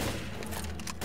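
Rapid pistol fire in the video game Left 4 Dead, a dense burst of repeated shots heard close and loud over a brief stretch.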